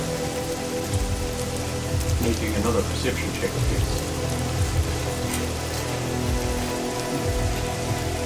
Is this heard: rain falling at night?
yes